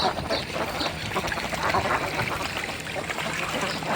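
Ducks bathing in water at a rural Bangladeshi homestead pond, with continuous splashing and scattered quacks at close range, filling the whole stretch without talk.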